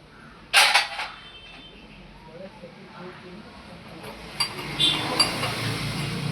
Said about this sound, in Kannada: ಇದನ್ನು ಹೆವಿ ವೆಯ್ಟ್ ಐರನ್ ಕಡಾಯಿ, ವೆಯ್ಟ್ ಇದೆ, ಒಳ್ಳೆ ವೆಯ್ಟ್ ಇದೆ.